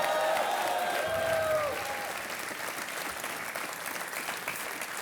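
Studio audience applause on the KBC game show, a burst of clapping that is loud at first and then eases to a steady lower level, with a brief tonal musical sting at the start.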